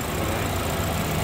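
A BMW 520 with a 2.0-litre twin-turbo engine runs steadily close by, giving a loud, even idle rumble with no change in pace.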